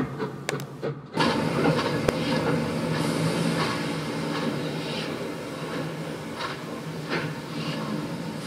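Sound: train setting back coaches out of the platform at Faringdon

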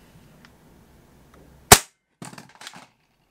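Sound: Tokyo Marui USP9 gas airsoft pistol firing

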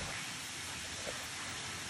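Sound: afternoon rainstorm

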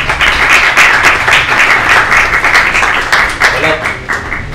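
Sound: audience applause for speaker

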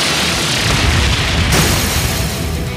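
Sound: Brionac weapon firing explosion in video game Trails of Cold Steel III

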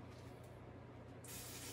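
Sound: spray bottle misting a bioactive enclosure

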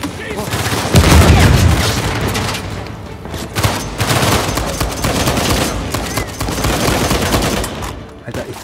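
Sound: gunfire in the video game Uncharted 4

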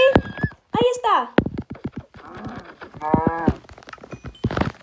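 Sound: horse and cow sounds in the video game Minecraft

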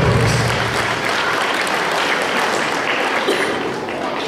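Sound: applause at a rural education day ceremony

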